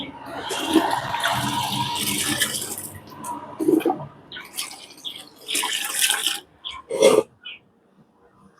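Water is stirred in a container, giving a sloshing, swirling rush with a few splashy bursts and drips. It fades toward the end.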